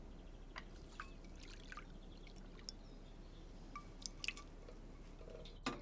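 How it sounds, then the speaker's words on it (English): Hot water poured onto liquorice in a kitchen to dissolve it, a faint, steady trickle and light dripping that continue quietly throughout with no talking. "Just to dissolve that, a bit of hot water."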